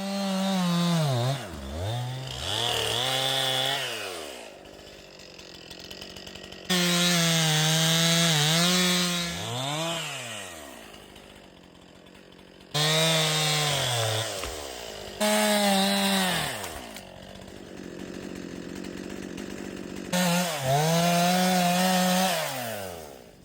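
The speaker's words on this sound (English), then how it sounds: "I guess I could have left my chainsaw and gas up there" A chainsaw cuts through wood on a Rockies mountain trail, its engine loud and close, revving up and bogging down in repeated bursts between brief idles and pauses.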